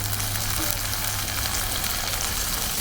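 Tomatoes tossed into onions frying in hot oil give a dense, steady sizzle that fills the whole moment, close and continuous with no break.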